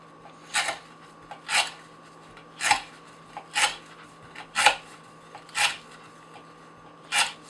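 Custom RJ Martin knife with a thin-ground S110V steel blade slicing through rope, seven evenly spaced rasping cuts, close and clear over a faint steady hum.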